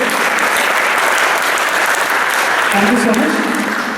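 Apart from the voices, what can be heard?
audience applause for students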